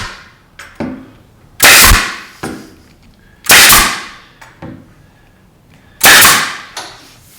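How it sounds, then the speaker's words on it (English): A wide crown pneumatic stapler drives 1¾ inch, 1/2 inch crown staples into a garage shelf, three loud sharp bangs spaced about two seconds apart with softer clicks between them, close and alone. "I come back with my wide crown stapler. I'm shooting an 1¾ inch, 1/2 inch wide crown staple."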